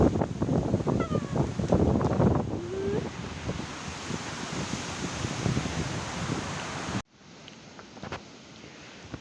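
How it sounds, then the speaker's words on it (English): Strong wind batters a hilltop above Brașov, Transylvania, a loud rushing roar with rustling and mic buffeting, joined by brief voices early on, then cutting to a quieter, steadier wind hiss. "It's so windy."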